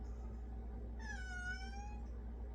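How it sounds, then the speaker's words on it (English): A single drawn-out meow from a house cat, faint and somewhat distant over a low steady background hum. "Do you hear the cat?"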